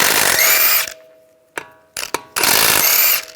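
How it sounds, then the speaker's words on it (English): Ratchet wrench fitted with a 19mm socket loosening lug bolts on a 2013-2016 Dodge Dart wheel, with two loud bursts of rapid clicking and a few sharp metallic taps between them, close and alone. "use a 19mm socket, take the lug nuts off"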